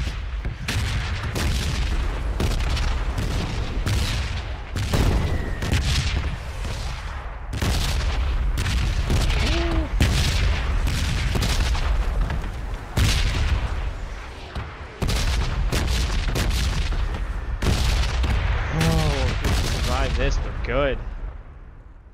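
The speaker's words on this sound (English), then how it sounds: "Stuff's exploding." Explosions and gunfire in PlayerUnknown's Battlegrounds fill the whole stretch: repeated loud booms and sharp shots crack one after another, with occasional speech mixed in.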